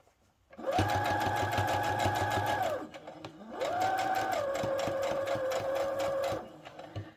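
A sewing machine stitches a satin-lined bonnet in two sustained runs of rapid motor whirring with a steady needle clatter, separated by a brief pause, close and clear.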